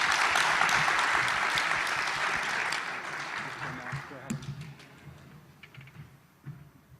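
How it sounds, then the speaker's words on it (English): An audience at a startup demo day applauds the panelists, a dense burst of clapping that holds for a few seconds, then thins into scattered claps as a voice begins. "Can you give our panelists a round of applause"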